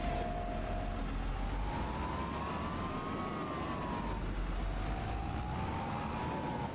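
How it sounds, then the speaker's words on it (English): A Case tractor engine in the Farming Simulator 25 video game drones steadily and loudly, with a whining tone rising and falling on top of a constant low rumble. "the sound on this case is awesome"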